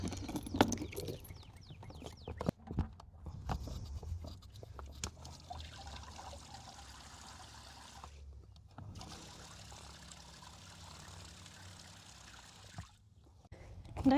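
Water runs from an RV's outdoor shower fixture during bleach-free fresh-water tank sanitizing, a steady trickling stream heard close by with a brief pause partway through and no talking.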